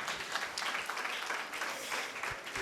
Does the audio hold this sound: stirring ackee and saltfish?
no